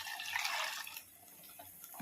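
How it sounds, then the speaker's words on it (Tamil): Tamarind water pours into a pan while cooking a coconut fish curry, a short splashing trickle that fades into soft faint drips. "இந்த புளி தண்ணியை இதில் கொஞ்சம் ஊற்றிப்போம்."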